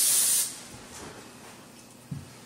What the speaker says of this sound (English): generously spray this Bundt pan, and we are, of course, are using Pam.